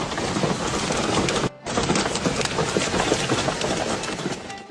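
Heavy downpour in Saudi Arabia, a loud, steady wash of rain that fills the clip, with a brief dropout near the start and no voices.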